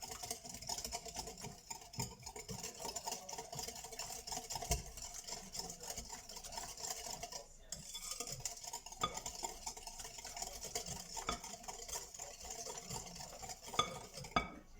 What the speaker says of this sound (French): Donc je mélange avec les œufs.